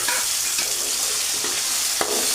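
Chilies and onions sizzle steadily in a hot pan while cooking for noodles, a continuous close frying hiss with a few soft stirring clinks, no voices.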